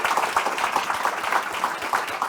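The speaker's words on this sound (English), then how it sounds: "We have a great big round of applause." A crowd gives a steady round of applause, with dense, continuous clapping that stays close and even throughout.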